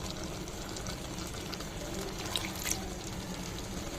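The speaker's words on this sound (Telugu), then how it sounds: "కొంచెం వాటర్ యాడ్ చేద్దామండి." Water is poured steadily into a pan of brinjal curry paste, a continuous soft rushing splash heard close and fairly quietly for a few seconds.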